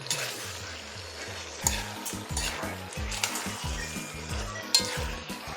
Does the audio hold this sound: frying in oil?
yes